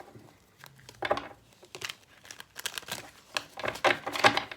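A deck of tarot cards being shuffled by hand, giving a string of soft papery riffles and crinkly bursts that swell and fade irregularly, close and fairly quiet, with no talking.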